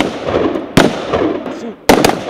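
Gunshots during Marine Corps training, two sharp loud cracks spaced about a second apart over outdoor background noise.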